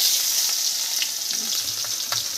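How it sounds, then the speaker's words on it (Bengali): Cumin seeds sizzle in hot oil left from frying potatoes, a steady close crackling hiss with light stirring taps, no voices. "এখন এই তেলে আমি দিয়ে দেব হলো একটু জিরে দিয়ে দেবো"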